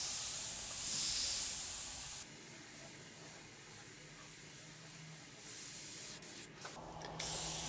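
An Iwata airbrush sprays with its trigger pulled fully back, giving a soft steady hiss that shifts level a few times, with brief breaks and changes in the airflow near the end, close and without talk.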